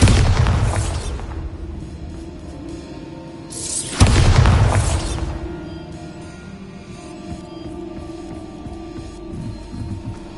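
Heavy booming blasts from the Bombarda blasting spell in Hogwarts Legacy, two loud deep explosions a few seconds apart, each trailing off into a low rumbling hum.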